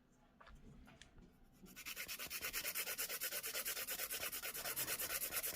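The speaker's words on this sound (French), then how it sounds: "Je vais commencer à la lime." A nail file rasps rhythmically across fingernails from a budget home nail kit, quiet at first and then fast, even back-and-forth strokes close up.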